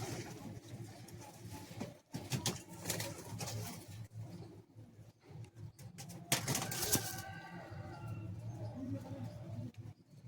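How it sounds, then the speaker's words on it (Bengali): Pigeons cooing inside a loft in Bagnan, a dense chorus of throaty coos with a few chirps and bursts of wing flapping, loud and close. "খুব সুন্দর পায়রা"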